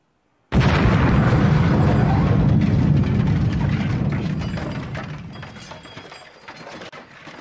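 A bomb explodes in a Charlie's Angels video game cutscene, a sudden loud blast after silence that rumbles and crackles with debris, then slowly fades over several seconds.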